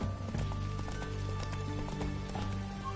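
A horse gallops in The Witcher 3: Wild Hunt on PS5, with steady hoof clip-clops running under dense game music and ambience throughout.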